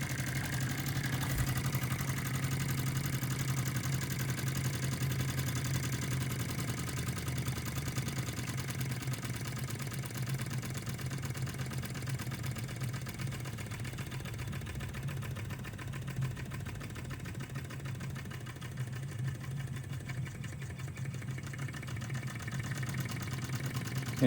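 An OKMO R01 Rider Ericsson hot-air engine runs steadily with its pump working, giving a continuous mechanical hum with a faint rhythmic chatter at an even pace throughout, close by and with no talk.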